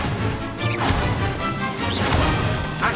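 A Levioso spell cast during a Hogwarts Legacy duel: a loud magical burst with a sharp whoosh and impact. Similar cracks and swishes repeat, layered over dense, busy combat noise.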